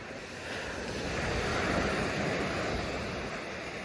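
Sea waves surging and washing continuously at close range, a broad steady roar of surf mixed with wind buffeting the microphone, with no voices.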